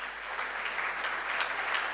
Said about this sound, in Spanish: Vamos a darle un aplauso al Espíritu Santo